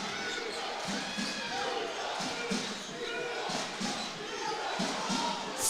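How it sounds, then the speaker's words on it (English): Home crowd roaring steadily at a high school basketball game in Queens, a dense, continuous wash of cheering with shoe squeaks and ball bounces poking through, loud and close throughout. "listen to the home crowd in Queens"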